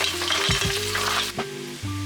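Mussels and crushed garlic sizzling loudly in a hot pan, a steady bright crackle of frying with brief clinks and scrapes of stirring.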